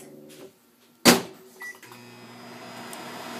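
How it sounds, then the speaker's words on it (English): A microwave oven heating a bar of Ivory soap opens with a low hum that stops, then a sharp click and thump as the door closes, a brief beep, and the hum returns and continues steadily. "you're going to pop this in the microwave for about 90 seconds"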